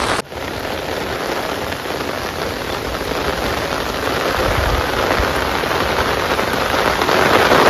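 Heavy monsoon rain pours down steadily at a campsite during a crab-trapping outing, a dense, close, unbroken hiss that swells slightly louder toward the end, with no voices.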